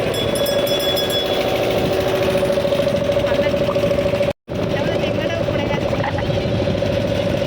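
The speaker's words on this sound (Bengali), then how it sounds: "ছেড়ে দিয়েছে নৌকা, কিন্তু প্রচন্ড আওয়াজ।" A motorboat carrying passengers across the river toward Mayapur drones loudly and steadily at close range with a constant engine hum, with wind buffeting throughout and one brief cut in the middle.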